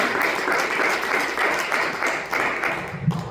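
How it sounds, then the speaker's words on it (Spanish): A church congregation claps hands together in a steady, fairly loud burst of mixed clapping that carries on for a few seconds before trailing off. "denle una ofrenda de palmas al Señor"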